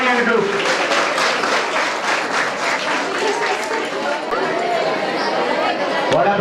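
A crowd of NCC cadets at a training closing ceremony applauds, a loud, dense, steady clatter of many clapping hands close by, with voices chattering beneath it.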